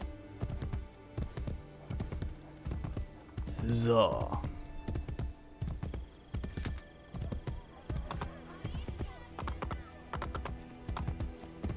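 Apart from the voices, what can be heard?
white horse galloping in video game Assassin's Creed Brotherhood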